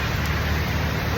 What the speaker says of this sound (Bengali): প্রচুর বৃষ্টি পড়তেছে এই মুহূর্তে